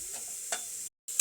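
Chicken and mixed vegetables for a stew get stirred briefly in a pan, giving soft scraping strokes over a faint sizzle, with a short silent gap before a final stir.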